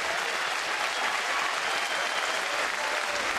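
Baseball stadium crowd at a Colorado at Toronto game breaks into sustained applause and cheering, a dense, steady wash of clapping and voices filling the whole stretch without pause.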